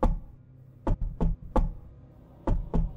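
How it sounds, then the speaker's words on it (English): Heavy knocks land on a door in two quick bursts of three, loud and close, separated by a short quiet pause, with no voices. "All at once the knocking stopped."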